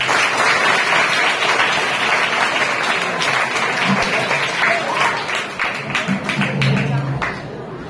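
A school audience applauds to congratulate students for their recycled products, sustained loud clapping that thins into scattered claps near the end, with a little talk beneath.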